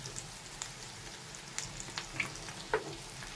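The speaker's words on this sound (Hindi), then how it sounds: "ये देखें कितने प्यारे हमारे कबाब फ्राई हो चुके हैं" Shami kebabs fry quietly in a pan, giving a soft, steady sizzle with a few small pops and crackles scattered through it, heard close and without any talk.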